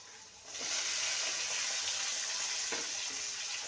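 Thin potato strips sizzle steadily in hot oil in a pan after a tempering of spices, a continuous hiss with a couple of faint stirring clicks.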